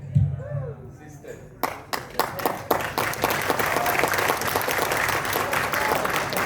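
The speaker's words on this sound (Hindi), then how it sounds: "ताली बजाने तो थोड़े तरीके से और ढंग से बजाओ।" Brief talk gives way to a crowd clapping, starting with a few scattered claps and swelling into steady, sustained applause close by.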